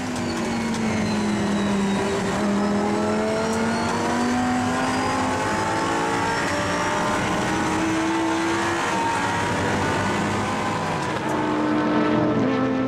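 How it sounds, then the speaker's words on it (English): GT race cars, including an Audi and a Ferrari, battle at the Assen circuit during a Dutch Supercars round, their engines droning steadily with rising and falling pitch as they lap, loud and continuous throughout. "The battle between the Audi and the Ferrari now."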